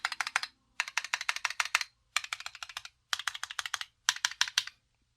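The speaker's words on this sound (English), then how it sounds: "So I'll be doing a little typing test for you" A Keychron Q8 Alice ergonomic mechanical keyboard with thin ABS keycaps and pre-lubed stabilizers clacks in five quick bursts of typing, crisp close keystrokes separated by short pauses.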